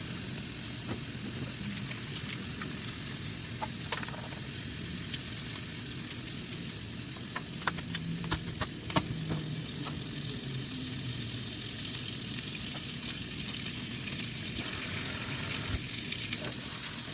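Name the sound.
boneless ribeye steak frying in a pan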